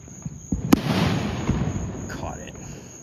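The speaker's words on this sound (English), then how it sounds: "I bet this is a massive explosion." A firework explodes with a sharp crack followed by a rumbling, crackling burst that decays over two seconds, heard from a moderate distance with a steady background hiss.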